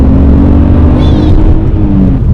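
A BMW E46 with a 2.5-liter inline six pulls hard in second gear, its engine note rising steadily and loudly from inside the car.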